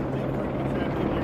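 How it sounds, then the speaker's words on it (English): Helicopters flying over a Chicago street, a steady low rotor drone filling the whole stretch at moderate level, with no break or change. "So we got helicopters."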